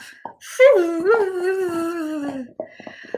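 An Australian Shepherd lets out one long, drawn-out whimper that slides down in pitch, followed by a couple of short yips. The dog is close by and loud, and there is no talk over it.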